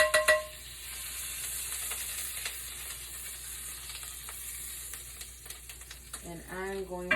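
Fat melts in a hot pan with a continuous soft sizzle, punctuated by light clicks and scrapes, before a brief voice rises near the end.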